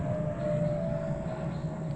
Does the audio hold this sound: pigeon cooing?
no